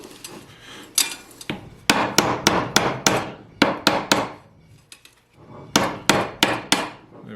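A hammer strikes a Mercedes W109/W108 rear driveshaft yoke in quick, ringing metallic blows. The hits come in bursts, with a short pause between the groups.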